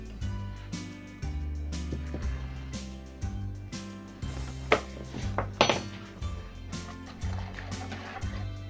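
A spoon scrapes and knocks against a bowl while dough ingredients are mixed, including two eggs, margarine and a teaspoon of salt, giving irregular close clinks and soft thuds with no talking.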